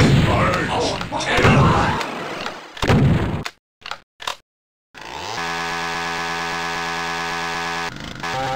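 Gunfire and heavy impacts sound from the Space Marine video game, in dense bursts mixed with in-game voices before a short quiet gap and a sustained droning tone.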